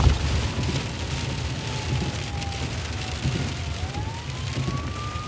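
An ambulance siren wails faintly, slowly rising and falling, as it passes through a steady wash of rain and sleet during an ice storm, with low traffic rumble underneath.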